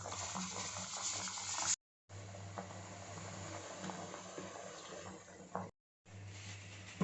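A pot of curry with a ground paste added bubbles and simmers steadily at close range, with soft crackles and a faint low hum underneath, broken by two brief silent gaps.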